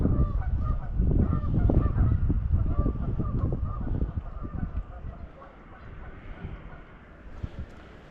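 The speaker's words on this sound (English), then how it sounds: "Seriously, geese, shut up." A flock of geese honks loudly and continuously near a fishing spot, overlapping calls crowding together before thinning slightly toward the end, with no talk over them.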